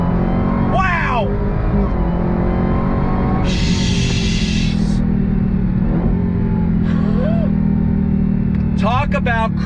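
A 2022 Dodge Challenger Hellcat Jailbreak pulls at full throttle from a roll on blacktop, a loud steady engine roar that climbs through the gears, with excited voices and whoops over it.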